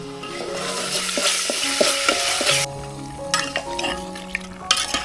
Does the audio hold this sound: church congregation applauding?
no